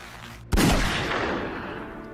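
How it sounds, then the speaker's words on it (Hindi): A single loud gunshot blast goes off in a shooter video game during a police raid, striking sharply and then fading through a lingering echo-like tail. "गोलियां चल रही हैं।"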